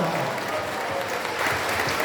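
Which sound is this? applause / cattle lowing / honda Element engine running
applause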